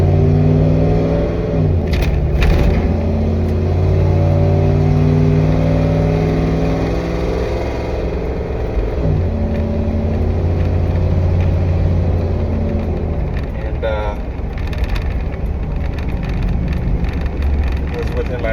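A box truck's engine drones steadily from inside the cab while driving, with a loud low hum, some wind rush and small shifts in pitch as the engine speed changes.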